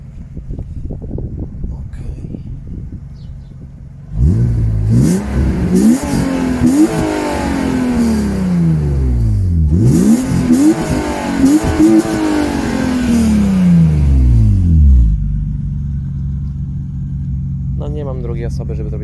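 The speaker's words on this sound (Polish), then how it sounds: "Podciągnę do maksymalnych obrotów, zobaczymy jak on będzie odcinał się." A BMW E36 330i engine revs repeatedly to high rpm, climbing and falling in loud, close sweeps with brief rev-limiter cut-offs, then settles back to idle.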